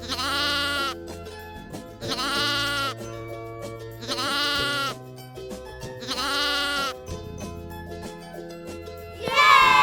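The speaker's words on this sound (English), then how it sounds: "lamb, lamb माने दुम्बा" A lamb bleats in four long, loud, wavering cries spaced evenly about two seconds apart, close and clear over a soft musical backing, with a fifth cry starting at the end.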